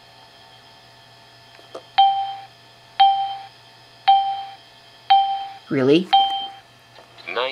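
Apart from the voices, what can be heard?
timer alarm on laptop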